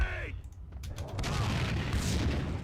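An explosion in Max Payne 2 booms out after a brief high tone, followed by a dense, sustained roar of rumbling debris and gunfire-like noise that stays loud to the end.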